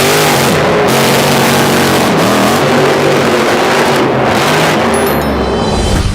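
The Hurst Hemi Under Glass, a 1965 wheelstanding drag car, roars with a loud, close engine, the revs rising and falling in surges over a continuous, raw, throbbing drone.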